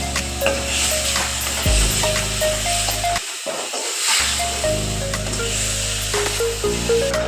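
Desi ghee hits a hot pan while pethe halwa, a sweet ash gourd pudding, is cooked, giving a steady broadband sizzle and hiss that runs throughout beneath prominent background music, with a brief drop in the low end midway.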